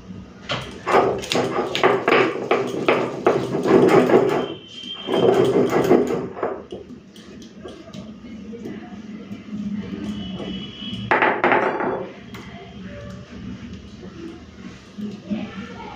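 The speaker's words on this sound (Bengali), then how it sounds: "এখন 4টে মতো কাঁচা লঙ্কা নিয়েছি, কাঁচা লঙ্কাটা দিয়ে বেটে দিই" Mustard seeds and four green chillies are ground on a stone slab with a harsh, rhythmic scraping that comes in three bursts. The first is long, the second shorter, the third brief, with quieter pauses between them.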